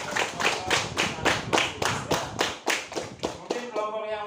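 Classroom group applauding after a presentation, about a dozen evenly spaced, close, loud claps in a steady rhythm that stop near the end, leaving a brief voice.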